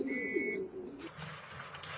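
Pigeons in Taiwan give low, soft coos close by as they land after training, with a brief high whistle at the start and a faint rustle of movement afterward.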